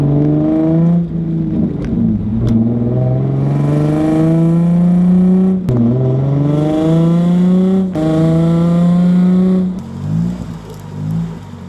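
A Honda Civic drives along with its engine whining through rising gears, each pull climbing in pitch before a shift drops it back, loud and close with a steady whir throughout and no talking.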